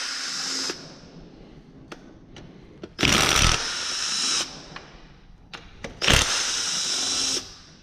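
An impact wrench on a 6.0 LS engine during teardown, working oil pan bolts. Two loud, harsh bursts of whirring, hissing rattle, each lasting about a second, are separated by quieter clicks and workshop clatter.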